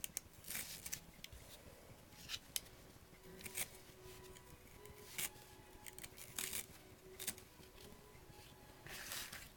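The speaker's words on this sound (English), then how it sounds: "And then you're gonna cut just a little bit in from the very edge." Scissors cutting paper for an estuary model, a quiet series of short, crisp snips scattered irregularly across a faint, soft background.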